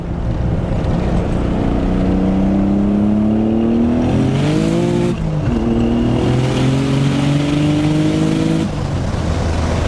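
A 900HP Nissan 300ZX with boost and anti-lag accelerates hard on open road, its engine note rising steadily through the gears with a brief dip at a shift, loud and close from inside the car.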